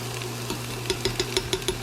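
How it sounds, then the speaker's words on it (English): A spoon stirs chopped onions with a tablespoon of minced garlic in a pot for chicken noodle soup, giving a soft run of scraping clicks that grow steadier toward the end over a low, constant hum. "I'm going to stir these around,"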